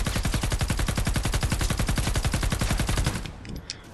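A Nature Gravedigger gun fires in the video game Fortnite: a fast, even stream of loud, sharp shots, about ten per second, running for three seconds before stopping abruptly into quieter game sounds.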